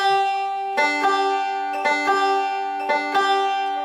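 Banjo swing rhythm picked with thumb and middle finger, a slight hesitation on the first-string note giving a galloping, lilting pattern of bright plucked notes and chords, repeated in even groups, close and clear with no talk.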